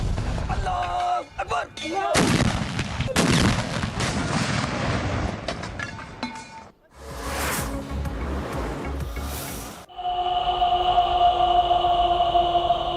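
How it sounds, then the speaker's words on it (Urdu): Cannon salute fired in Pakistan's federal and provincial capitals on Independence Day, loud booming blasts rolling across several seconds with background noise, followed by a steady tonal hum near the end. "وفاقی اور صوبائی دارالحکومتوں میں توپوں کی سلامی"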